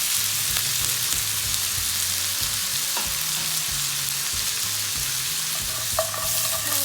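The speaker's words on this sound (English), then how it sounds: "we've been frying the mutton here in the oil" Mutton sizzles steadily in hot oil for Chettinad mutton chukka varuval, a constant crackling hiss, with occasional stirring clinks and scrapes and no voices.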